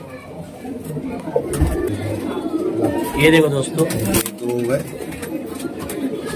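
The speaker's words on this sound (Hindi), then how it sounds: "ये तीसरा ललचरा कबूतर है" Lalchara pigeons coo in soft, throaty bursts close by, mixed under someone talking over them.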